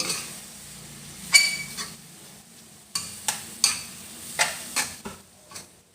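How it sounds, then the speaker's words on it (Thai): Holy basil leaves being stir-fried with minced pork in a pan, heard as a quiet background sizzle broken by about eight sharp scraping and clanking strokes of a spatula against the pan at uneven intervals. "ใส่ใบกะเพราลงไปเลย พัดให้เข้ากันค่ะ"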